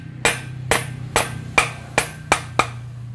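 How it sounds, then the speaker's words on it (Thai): Seven sharp, evenly spaced hammer blows strike a wooden block to drive a motorcycle clutch bearing shaft into place, each a crisp knock with a short ring, under a faint low hum and no talking. "ก็ตอกแกนเข้าไปนะครับ"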